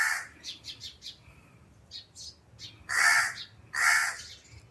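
A crow caws repeatedly nearby in an outdoor natural setting, with a short series of quick calls followed by two louder, drawn-out caws against quiet background.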